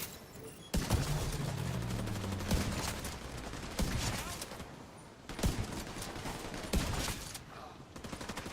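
Gunfire from a gun with strong rightward horizontal recoil in The Division 2, heard as loud bursts of sharp shots at irregular intervals over continuous game noise, with a voice talking in places.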